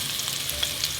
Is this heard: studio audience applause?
no